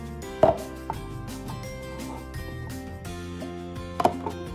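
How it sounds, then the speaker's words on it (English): Potatoes pressed through a store-bought fry cutter, a few sharp chopping thunks spaced apart over a steady background hum, close and moderately loud, no talking. "So now we're gonna cut up our potatoes. I have this fry cutter that I bought from the store."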